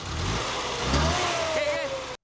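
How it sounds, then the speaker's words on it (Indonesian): A car that had stalled starts up again, its mid-pitched engine rising in a revving sweep for about two seconds over low rumble and background noise, then cutting off abruptly. "Mobil telah menyala kembali."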